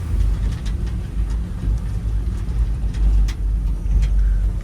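An old, long-abandoned Ford F100 pickup pulled from a junkyard idles close by, with a steady low engine rumble and small irregular ticks running on throughout.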